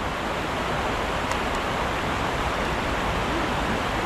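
A strong river current rushes downstream at a fishing spot, a steady, loud broadband roar of flowing water that continues without a break throughout.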